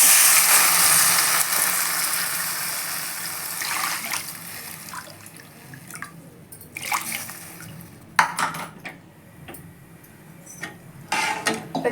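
Water is poured from a cup into a pot to cook samba rava: a steady rushing pour fades over several seconds, followed by scattered splashes, drips and light clinks of a metal vessel.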